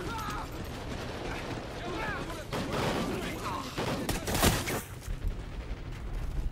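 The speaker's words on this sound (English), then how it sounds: "Oh, I think I shot Riley" Bursts of automatic gunfire and sharp shots in a Call of Duty: Ghosts campaign firefight, crackling at moderate level amid game noise, with a few scattered loud reports near the end.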